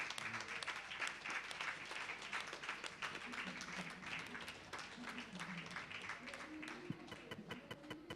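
An audience at a reggae talk event applauds steadily throughout, a fairly quiet, continuous patter of many hands with faint voices mixed underneath.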